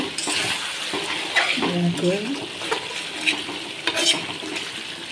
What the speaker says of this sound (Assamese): মাংস ভাজি আছোঁ একেবাৰে টেষ্টি কৰি